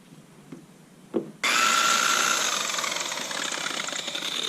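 A power buffer with cutting compound starts up on a Camaro's paint after a couple of soft knocks, then runs loud and steady with a continuous whirring drone close by.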